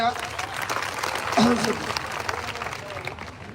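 Loud, sustained applause rises from a crowd at a Latur student rally over the MPSC exam. The dense clapping carries throughout, swelling slightly in the middle, while a voice speaks over it.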